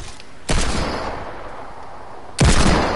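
Gunfire in a video game, sniper combat: two loud, sharp shots about two seconds apart, each with a booming decaying tail, no talking.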